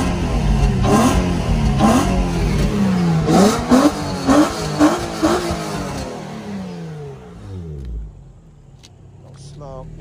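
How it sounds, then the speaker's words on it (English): Infiniti G35 coupe's VQ engine revving through its exhaust at a 2003 car start-up, several sharp blips rising and falling close by, then settling toward idle as a person talks over it. "just so you can hear the exhaust"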